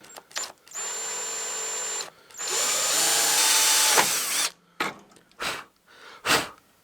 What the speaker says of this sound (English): now I'll drill a pilot hole at the spot that I punched.